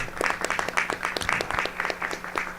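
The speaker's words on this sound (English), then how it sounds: "give yourself a big round of applause," Applause at a regular board meeting for the nine board commissioners: a room of people clapping in a brisk, dense patter that holds steady throughout, with a faint hum underneath.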